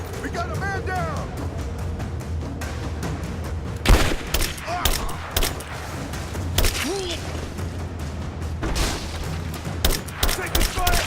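Repeated gunfire and bursts of automatic weapons in a firefight in the Rise of the Tomb Raider video game, with booms and thuds under continuous shouting voices.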